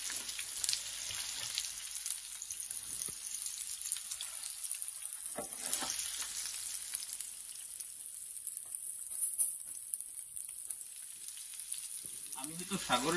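Atlantic Ocean fish frying in a pan, giving a steady, close hiss of sizzling oil that runs the whole time with scattered crackles and pops.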